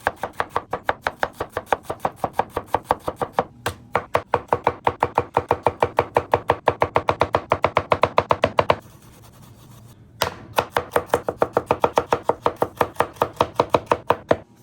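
Thawed shrimp chopped with a knife on a board, a rapid run of close, crisp blade strikes in a fast steady rhythm, broken by a brief pause before the chopping resumes, with no talk.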